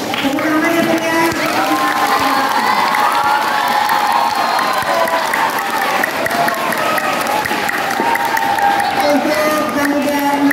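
A school audience at a junior high student council candidate debate claps and cheers loudly and continuously, with children shouting and voices mixed through the noise.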